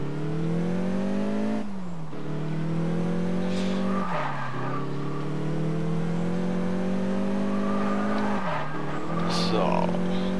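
An Audi in the racing game Test Drive Unlimited accelerates through its gears, the engine tone climbing steadily then dropping at each shift, with tire squeal and someone talking over it.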